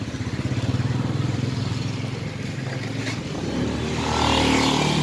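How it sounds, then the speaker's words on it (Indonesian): A motorcycle engine with a leaking exhaust runs steadily up close, a low throbbing idle that rises in pitch and loudness toward the end as if revved. "Ini sumber kerusakan alam dari bocoran knalpot."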